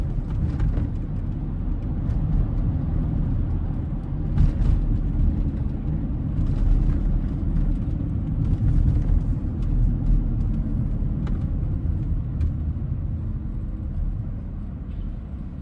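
A Porsche Cayenne with a PSM and ABS fault cruises at steady speed, heard from inside as a constant low engine and road rumble, with faint occasional knocks and no talking.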